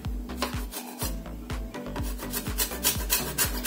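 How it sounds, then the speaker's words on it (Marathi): Lemon peel grated for plum cake zest, a quick, steady run of rasping strokes on a metal grater, close and even in rhythm. "हे आहे लिंबू आणि त्याची ही जी वरची साल आहे तर मी ते ह्याच्यावरती किसून घेणार आहे"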